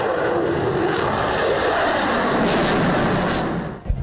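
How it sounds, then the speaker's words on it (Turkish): Turkish fighter and training jets perform at an airshow in Baku, their engines producing a loud, sustained roar that swells and fades as the aircraft pass overhead. "Türkiyə qırıcı və təlim təyyarələri səmada müxtəlif manevrlərlə şov göstəriblər."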